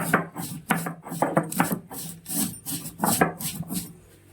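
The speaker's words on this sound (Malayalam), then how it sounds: "നമുക്ക് കുരുമുളകും പെരിഞ്ചീരകവും കൂടി അരച്ചെടുക്കാം" Black pepper and fennel seeds being ground by hand, a close, steady rhythm of rough rasping strokes repeated back and forth with no talking.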